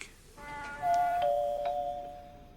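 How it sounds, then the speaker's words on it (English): A doorbell chimes a two-tone ding-dong at a front door in a radio mystery drama, clear and ringing out with a lingering decay over a quiet background. "Did you ring his doorbell, Herbert?"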